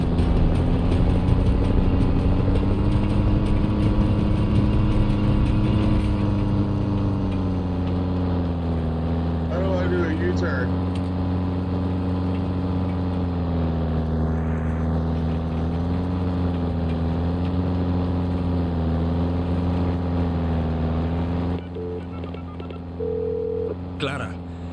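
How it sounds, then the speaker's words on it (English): Propeller plane engine in flight in the video game Far Cry 6, a steady loud droning hum with strong harmonic bands that rises and dips slightly in pitch, with a voice talking over it at times. "I don't know how to fly this plane"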